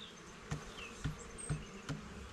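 Honeybees buzz around a hive as frames are placed in it, a soft steady hum close by, broken by four evenly spaced dull knocks.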